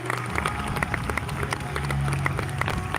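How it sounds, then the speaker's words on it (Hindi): An audience at a poetry evening in Paigah Palace, Hyderabad, gives a rousing round of applause, with steady dense clapping throughout and a low hum of voices beneath. "एक बार जोरदार तालियां सतीश गुप्ता साहब के लिए"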